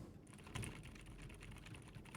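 Quiet mechanical typing on a Dark Project x Akko 5087S Blue keyboard set on a desk, a soft, steady patter of muted keystrokes with a couple of slightly louder presses, close and low in level.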